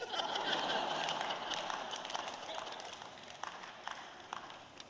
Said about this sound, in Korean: 박수 치시는 분 뭐예요?